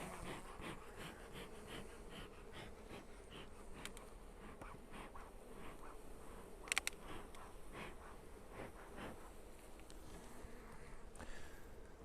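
A steady, dense buzz of bees swarming around an opened hive, close and continuous for the whole stretch with no talk over it.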